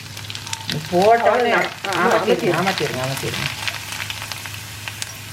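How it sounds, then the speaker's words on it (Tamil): Poha, or flattened rice, drops into hot oil for a Diwali mixture snack and fries with a continuous crackling sizzle, while a voice talks loudly over the first half. "சரி, இப்போ நாங்கள் அவல் போட போகிறோம்"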